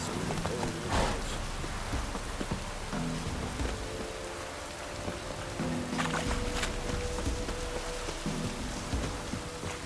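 Steady rain patters across surfaces in The Witcher 3: Wild Hunt, a soft, continuous hiss of drops with faint tonal game ambience and occasional light thuds beneath, no voices present.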